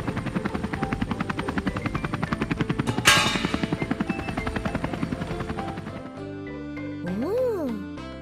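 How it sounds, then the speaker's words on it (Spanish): Cartoon helicopter flying in a children's animated show, a loud rhythmic rotor chop with a whining engine that pulses steadily for about six seconds, then gives way to music and a voice. "El helicóptero nos trae la rampa"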